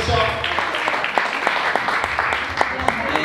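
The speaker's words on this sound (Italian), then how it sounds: "facciamogli un grosso applauso" Audience applause at a café book presentation in Naples: scattered, individually distinct hand claps from a modest crowd, heard close with voices murmuring underneath.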